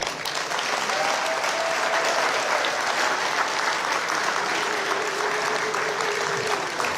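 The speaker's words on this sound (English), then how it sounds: "So I would like to request that if we can give Monica Juma a round of applause" Guests at an ambassador's appointment dinner give a sustained round of applause, dense and loud for the full length, with a faint voice or tone drifting briefly beneath the clapping.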